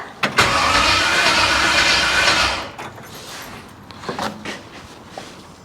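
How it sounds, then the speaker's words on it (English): A 1968 Camaro engine, recently revived after sitting for years, roars loudly through a burst of revs for about two and a half seconds, then drops to a rough, quieter idle with a few small throttle blips. "We gotta rev it a few times before we shut her down."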